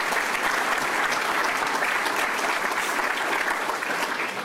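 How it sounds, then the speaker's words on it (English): Applause from a crowd at a Chicago mayoral event, dense and sustained clapping at full strength throughout, close and loud with no pause. "Let's give him a round of applause."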